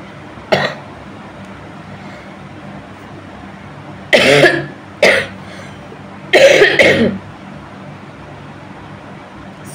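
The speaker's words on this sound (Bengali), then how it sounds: "সরি একটু কাশি হয়েছে," Someone coughs several times during a spoken class 8 maths lesson: one sharp cough, then a pair, then a rougher double burst, all loud and close against a quiet room.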